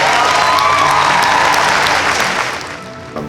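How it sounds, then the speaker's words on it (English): A room of people breaks into loud applause mixed with some cheering at a school event, dense clapping that gradually thins out after about three seconds. "Round of applause for our awesome DMs."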